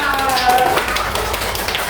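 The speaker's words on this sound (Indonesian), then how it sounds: "Beri tepuk tangan yang meriah." Classroom students clapping for a group at the front of a primary school class, a brisk, uneven patter of hands with voices mixed in, moderately loud.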